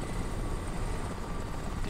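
A helicopter in the video game Crysis gives a loud, continuous close rotor roar with dense broadband engine noise, steady throughout with no talk.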